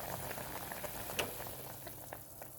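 Pot of Vietnamese-style rice noodle soup (khao piak yuan) with fresh noodles boiling on a home stove, a steady soft bubbling and faint crackle with one brief sharper pop, close and quiet.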